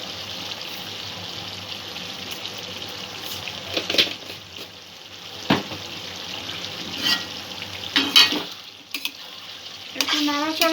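Chicken curry simmers and sizzles in a pan as it is stirred after sugar is added, a steady close frying hiss broken by intermittent scraping and clinking of the spoon.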